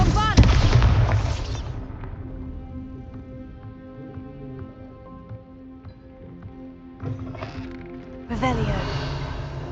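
Confringo and Bombarda spells go off in the Hogwarts Legacy game: loud booming blasts with crackling bursts at the start and again near the end, with a character's voice calling out the spells and a quieter stretch of game music and effects between.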